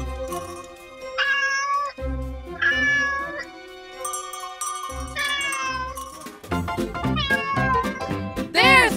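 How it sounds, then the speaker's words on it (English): Cat meowing repeatedly and loudly, drawn-out rising and falling meows, one after another, close up with little else behind them. "There's the cat!"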